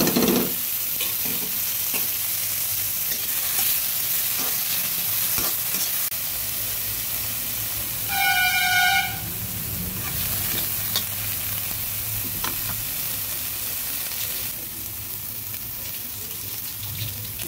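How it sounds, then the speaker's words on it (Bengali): Sweet corn fries in butter in a wok, a continuous close sizzle with scraping stirs throughout, briefly joined by a short electronic beep partway through. "বাটার দিয়ে তার মধ্যে সুইটকর্নগুলো ঢেলে দিলাম"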